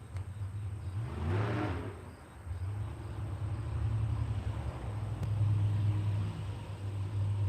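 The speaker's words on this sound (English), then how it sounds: "Some guy running his muscle car. That's a V8." V8 muscle car engine running on a road, a low steady rumble with a rise and fall as it revs, heard at a distance with faint background noise.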